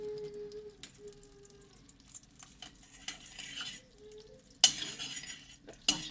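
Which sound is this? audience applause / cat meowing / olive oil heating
olive oil heating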